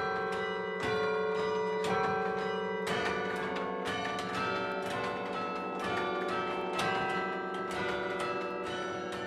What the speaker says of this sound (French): le campanile où se cache le carillon qui fait la fierté des Perpignanais